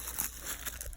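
Backing being peeled off the back of a sewn Texas quilt piece gives a faint, continuous crinkling and tearing rustle, close up, with no voices.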